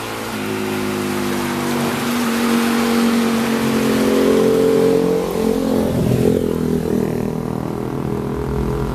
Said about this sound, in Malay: Hujan bos, hujan.